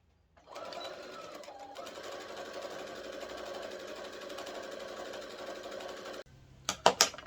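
A sewing machine stitches a seam along a small fabric treat bag, running in one steady, close whirring buzz for several seconds before stopping, followed by a few sharp clicks and handling noises.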